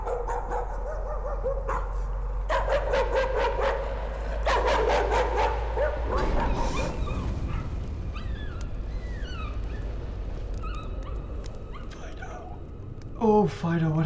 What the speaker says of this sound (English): You good dog, Fido